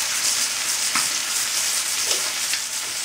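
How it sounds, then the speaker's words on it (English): Beef brisket sizzles steadily in a pan on the stove for braising, a continuous close crackling hiss with a few small pops, no voices. "There's nothing like the sizzle of meat on the stove or on the grill."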